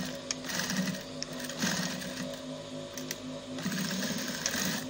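A sewing machine runs a kimono jacket seam, its steady motorized stitching whirring continuously at close range with small pitch shifts and no voices.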